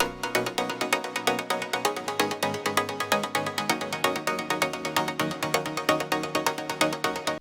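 Playful, stabby synth chords in the chorus of an electronic remix, rapid bright staccato hits repeating in a steady pulse over a busy full mix, loud and continuous throughout.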